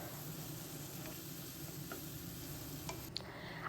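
Paneer and pointed gourd pulp frying in a pan for a stuffed gourd filling, giving a faint, steady sizzle with a few soft scrapes and ticks from stirring, no voices.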